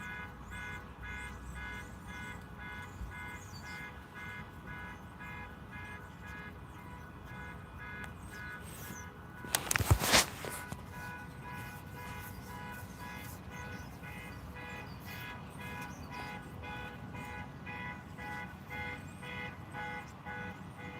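A car alarm wails outside at a distance, faint and continuous, swelling louder and fading quieter, with a brief louder burst of noise partway through.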